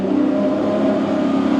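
The V12 engine of a hybrid Lamborghini Aventador-based car revving inside the Monaco tunnel, a loud, sustained tonal roar around 3000 rpm echoing close by, with no talk.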